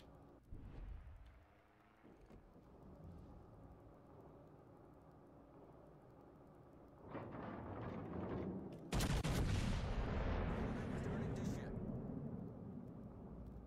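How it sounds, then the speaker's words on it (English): Heavy warship main guns firing in World of Warships Legends, a loud deep boom that swells near the end over a sustained rumble, with a game voice speaking alongside. "we should get another shot here with the guns"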